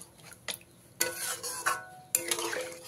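A utensil stirs katla fish gravy in a pan, giving sharp scraping clinks at irregular intervals with quieter stirring between them, close and fairly soft.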